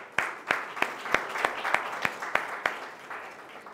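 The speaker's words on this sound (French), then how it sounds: "sous vos applaudissements" Audience applause at a capital-markets conference as a panelist is called to the podium, a steady patter of clapping with several sharp, closer claps standing out, loud and without talk.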